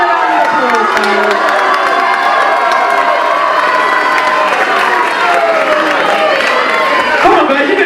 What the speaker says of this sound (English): So give everyone a round of applause, guys.